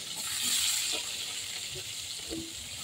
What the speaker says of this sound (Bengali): আলুগুলো দিয়েও ভেজে নিব লাল লাল করে